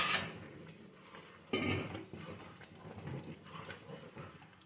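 Mysore pak mixture is stirred with ghee in a pan, giving close, scraping clinks and clatters of a spoon against metal that come in uneven bursts, one sharper knock standing out.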